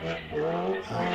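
A Morgan Riley hillclimb car, a Morgan chassis fitted with a Riley engine, blares past at a vintage sports car hillclimb with a raucous, shifting engine note and a brief tire squeal, loud and close.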